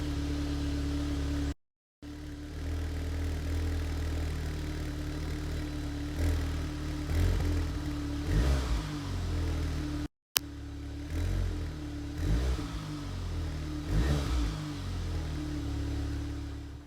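Cold start of a 2015 MK7 Volkswagen Golf R with an Invidia Q300 catback exhaust: a steady, rumbling exhaust drone close to the microphone, broken by two brief cutouts, with repeated throaty pulses rising above the idle.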